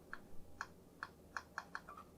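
A handful of sharp, quiet clicks from the bottom button of a Glorious gaming mouse, spaced unevenly about half a second apart, close up.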